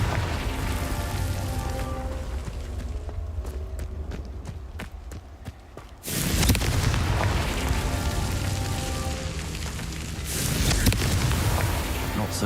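A Confringo fire spell explodes in the video game Hogwarts Legacy, a sudden loud, broad blast that roars on with crackling debris and a second swell, set against game music and ambience.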